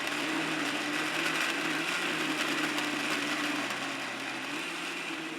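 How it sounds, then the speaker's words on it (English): A blender whirs steadily, mixing curry paste ingredients with a quarter cup of water into a liquid paste, a continuous close mechanical drone that eases slightly toward the end. "Now blend everything together until you have a well-mixed liquid paste."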